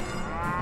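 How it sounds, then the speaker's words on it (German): Cows mooing in the video game Rock of Ages 2, a single short, clear moo, fairly loud with no talk over it. "Er benutzt hier auch die Kühe."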